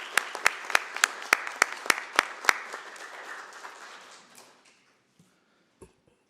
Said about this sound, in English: we're going to give you a round of applause